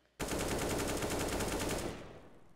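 Sustained automatic burst of AK rifle fire in the game Counter-Strike: Global Offensive, loud and continuous for nearly two seconds before cutting off into a fading tail, with no talking.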